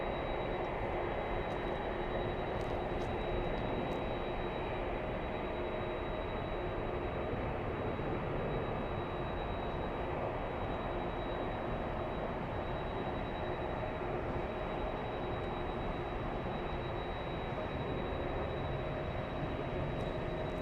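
A steady, moderately distant jet roar of an Embraer E-175 airliner at Los Angeles airport, holding constant throughout with no talk.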